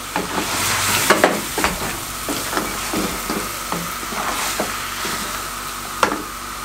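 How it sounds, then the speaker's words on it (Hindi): Dried plums and tamarind being stirred and sautéed in a pot for beef degi biryani, a steady close sizzle with repeated scraping stir strokes and a sharp clack near the end. "इसको इस तरीके से मिक्स करके इनकी भुनाई कर देंगे"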